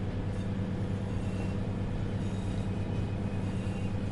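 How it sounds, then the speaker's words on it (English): Train engines running at full power in Train Sim World, a loud, steady, droning diesel roar with low throbbing tones and track rumble, unbroken and alone. "God, the sound of them engines just full whack"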